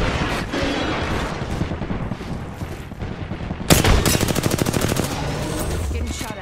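Video game gunfire in a squad battle, with sustained rapid automatic bursts and heavy booms, loud and dense throughout, ending in a fast rattling machine-gun volley with no talk.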